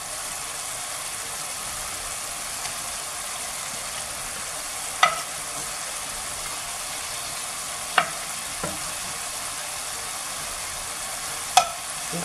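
Fish for a Bengali fish curry frying in a hot pan, a steady, even sizzle running throughout, broken by a few sharp spattering pops, with no voices.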